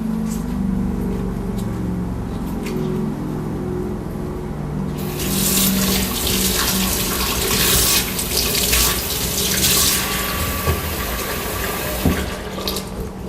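Cold water runs steadily from a kitchen tap into a hot cooking pan, a continuous close rushing splash that grows louder and brighter partway through, with no talking.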